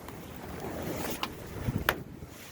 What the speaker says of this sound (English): Sorry about the wind, it's just windy outside right now.